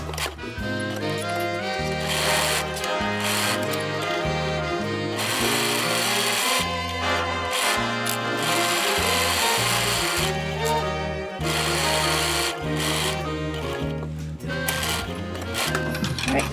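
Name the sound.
sewing machine stitching a coat seam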